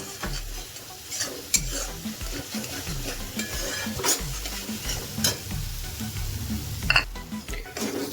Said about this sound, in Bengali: দইটা অ্যাড করার সাথে সাথে কিন্তু ভালো করে নাড়তে থাকবেন।